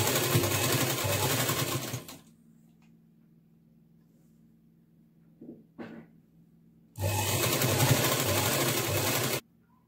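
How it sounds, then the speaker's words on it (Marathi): A sewing machine stitches a satin strip onto a net party-wear frock in two loud, steady whirring bursts, separated by a quiet pause with a couple of soft clicks. "ही पट्टी लावताना 1/2 इंच अंतरावरून टिप मारून घ्या."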